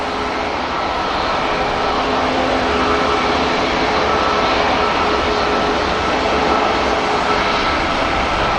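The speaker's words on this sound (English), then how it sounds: "Lots of aircraft heading over here though" An airliner passes over Manchester Airport, producing a loud, steady broadband engine roar that holds throughout with a faint tonal whine and no talking.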